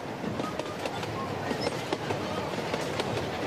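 A tourist train on a Rocky Mountains railway, once used to haul gold-bearing rock, rolls along at close range with a steady rumble and rhythmic clickety-clack of wheels on the rails.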